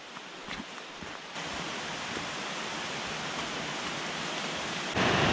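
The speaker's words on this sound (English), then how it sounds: "Whitelady Waterfall. Oh my goodness me. What? Nearly 30 meters high." Whitelady Waterfall at Lydford Gorge on Dartmoor, nearly 30 meters high, roars as a steady broadband rush of falling water, close and constant, growing louder at the end.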